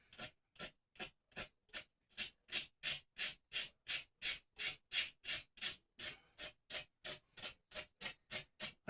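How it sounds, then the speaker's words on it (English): A guitar finish is matted down with heavy, aggressive grit sandpaper in rapid, regular back-and-forth strokes, a close rhythmic rasping of about two to three strokes per second with no talking. "I'm matting this finish down pretty good with this pretty heavy aggressive grit sandpaper."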